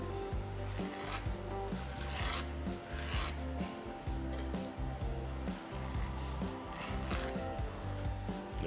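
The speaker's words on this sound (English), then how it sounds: "Just grab a fork and run it across your green chili" A fork is dragged repeatedly across roasted green chili, shredding it into strips, making rhythmic raspy scraping strokes that sound close and fairly quiet, with no talking.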